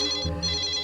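A phone rings with a short electronic ringtone, a bright repeating tone that briefly dips before resuming, heard alone without speech.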